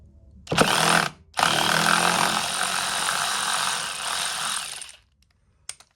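A WORKPRO 12V extended ratchet loosens a bolt, a loud close motor whir with a short burst, a brief pause, then a longer steady run that cuts off, followed by a small click.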